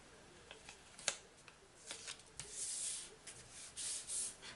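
A small piece of craft paper is torn by hand with soft rasping rips in short bursts, close and fairly quiet, preceded by light paper handling and rubbing.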